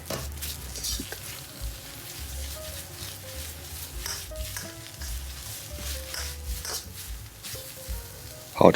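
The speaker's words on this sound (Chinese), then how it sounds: "把它炒软，炒趴，这样才能更入味儿。" Shredded cabbage sizzling and being stirred in a hot wok, a dense continuous frying hiss with scraping spatula strokes and light clinks throughout.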